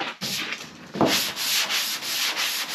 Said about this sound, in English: we'll take the long board with 220 on it.